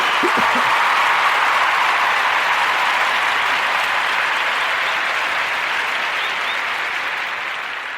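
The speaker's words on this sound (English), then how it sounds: "Can I get a clap on that?" Steady applause from a crowd, a dense continuous roar of many hands clapping that holds evenly for several seconds and tapers off slightly at the end.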